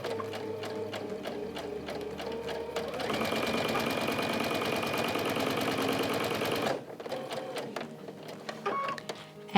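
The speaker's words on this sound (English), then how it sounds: "So let's start sewing." A sewing machine chain-stitches quilt-as-you-go pieces with sashing, a sustained run of rapid close mechanical whirring lasting about four seconds between quieter clicks and handling sounds.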